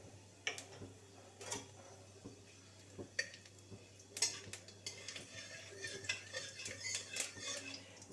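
Black cumin seeds and dried chillies temper in hot oil for a quick fried red amaranth dish, giving quiet, scattered pops, ticks and crackles that come at an irregular pace.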